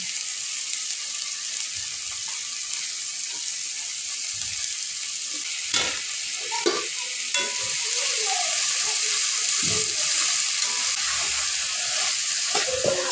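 Cabbage being tipped into a hot pan with coriander and stirred, a steady oily sizzle with scraping stir strokes and a few sharper knocks, getting a little louder partway through, no talk.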